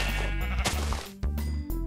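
Sheep in Minecraft bleat close and clear, several separate wavering calls in quick succession with short gaps between them, a few brief clicks mixed in.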